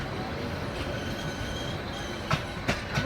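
A train rolls along a rail line with steady rumbling wheel noise and a few sharp clacks near the end, fairly close and continuous.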